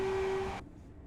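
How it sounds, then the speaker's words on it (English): In the train-simulator game Train Sim Classic, a Class 807 train sounds a short, steady, single-tone horn blast close up. It cuts off sharply, leaving faint background rumble. "train horn, so really quick sounds of the horns on these."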